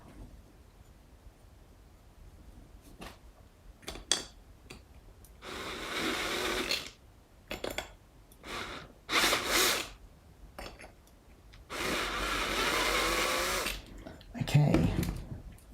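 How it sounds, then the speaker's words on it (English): A step drill spins against a hole in a Fender Jazz Bass part to deburr it, giving two sustained grinding runs of a few seconds each between quieter handling clatter and short bursts, close and fairly loud. "I quite like using a step drill just as a deburring tool."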